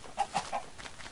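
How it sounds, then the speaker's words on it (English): A Minecraft chicken clucks three quick times in a row, fairly close and soft, then falls quiet. "You bastard of a chicken!"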